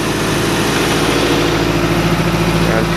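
A MerCruiser 3.7L boat engine idles in reverse with a complaining gimbal bearing, giving a steady, loud, even rumble with a constant droning hum throughout and no pauses.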